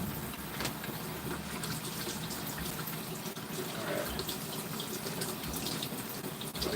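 Hot water runs steadily from a kitchen tap into a sink for washing dishes, a constant even hiss at moderate distance, with a brief spoken word partway through.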